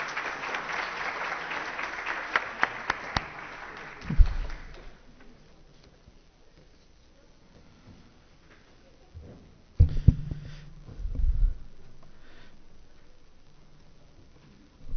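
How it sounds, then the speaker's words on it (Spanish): Audience applause at a technology conference in a lecture hall, a broad steady patter for the first four seconds that fades out, then near-silence broken by brief thumps and a short low rumble. "un fuerte aplauso, por favor"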